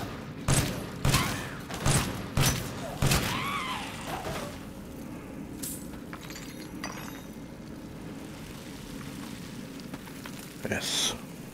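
New 9mm handgun in Resident Evil Village VR fires four rapid sharp shots in quick succession, followed by clinking and rattling handling sounds and quieter ambient noise.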